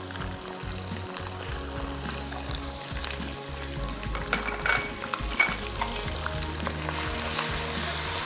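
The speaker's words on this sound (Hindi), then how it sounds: "हल्का सा मसाले को भूनना है" Spiced masala with turmeric and whole garam masala fries in a karahi for chicken pakora. It gives a continuous close sizzle, and the stirring scrapes and clinks grow busier toward the end.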